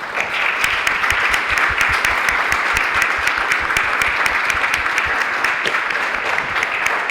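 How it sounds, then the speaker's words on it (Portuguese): An audience applauds at a book presentation, giving sustained, dense clapping from many people at a steady level throughout, with no talking over it. "eu acho que é de uma nobre justiça darmos uma forte salva de palmas ao Marco"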